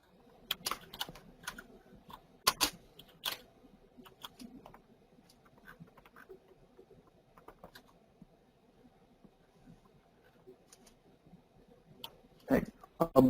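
Typing on a computer keyboard during a software tutorial, scattered sharp key clicks in small bursts with long gaps, close and fairly quiet over a faint steady hum.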